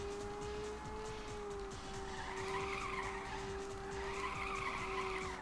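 In the Ridge Racer video game, car tires squeal steadily as the car drifts through corners. A sustained engine tone runs underneath and the skid noise swells in waves, loud and continuous with no talk.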